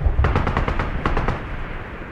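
Outer guns in the Broken Arrow game fire at a helicopter in rapid bursts of sharp, loud machine-gun shots, roughly a dozen cracks in quick rhythm before trailing off.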